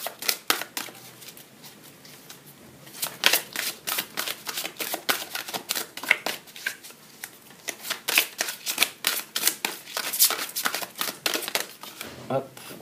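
Tarot cards being shuffled and riffled by hand, a rapid run of crisp flapping bursts in quick, uneven clusters, close and fairly soft, with talking heard over parts of it.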